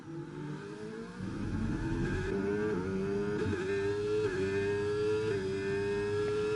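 A Mercedes race car engine in a racing video game drones loudly and steadily, its pitch climbing through gears with brief shift dips, close and continuous without talk.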